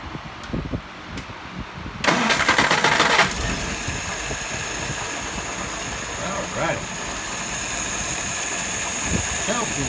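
Warm restart of a 539S engine after cooling: a brief cranking burst catches into a steady running idle, close and loud, with some voices over it.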